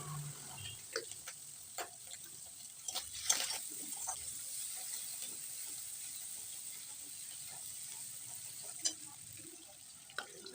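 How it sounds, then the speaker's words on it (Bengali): Turmeric sizzles gently in hot katla fish oil in a pan, a quiet, continuous crackle broken by scattered soft pops and a few sharper ticks, with no voices. "তেলটা একটু ভালোভাবে ভেজে নেব, নিয়ে তার মধ্যে দিয়ে দেব অল্প একটু হলুদ"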